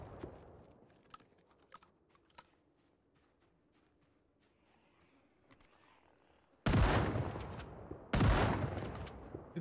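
Gunfire in a zombie survival video game: two loud, close blasts near the end follow a stretch of quiet clicking and faint game background, with no talking.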